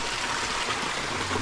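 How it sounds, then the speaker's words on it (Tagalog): Continuous broadband rush of a long river flowing steadily, a close, even wash of water with faint low rumble beneath and no talking. "Parang ilog na mahaba"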